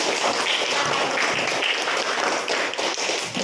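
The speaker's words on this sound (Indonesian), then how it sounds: "kasih tepuk tangan kelompok 2" Steady applause from a group of participants in an academic coaching session, dense and continuous clapping at an even level for a few seconds with no pauses.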